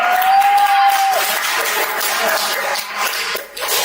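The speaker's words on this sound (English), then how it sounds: "Let's give him a big round of applause" A crowd at a Toastmasters club meeting applauds steadily and fairly loudly, a dense wash of clapping that continues through the whole stretch with a brief dip near the end, and a faint tone is heard early on.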